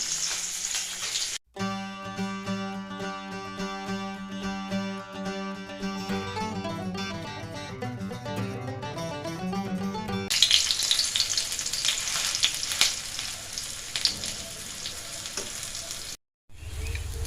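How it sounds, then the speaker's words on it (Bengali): Mustard and coconut fritters fry in oil. Music plays over the first part, then a steady, close bubbling sizzle carries on alone in the second half. "এই যে দেখো আমার বড়াগুলো ভাজা হয়ে গেছে এবার তুলে নেব"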